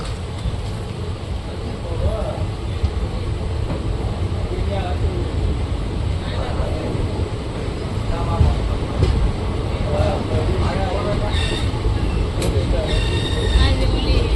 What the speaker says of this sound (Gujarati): કુકાવ આવી ગયું છે અને કુકાવથી ટ્રેન ઉપડી ગઈ છે